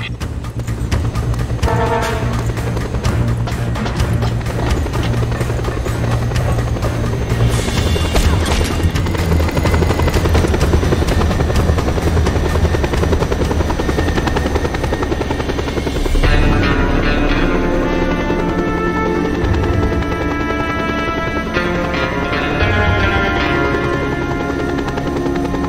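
A helicopter flies in the video game Just Cause 2, its rotor giving a loud, steady, close roar for the whole stretch with occasional booms, and no voices.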